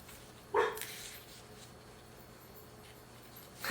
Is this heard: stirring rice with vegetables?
no